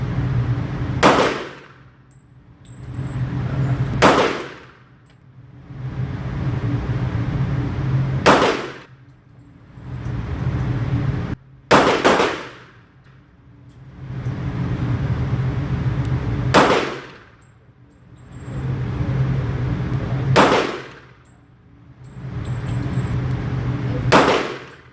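A Llama MiniMax sub-compact double-stack pistol fires about ten sharp, loud shots at irregular intervals outdoors, each crack followed by a brief ringing tail and a steady background hum between shots.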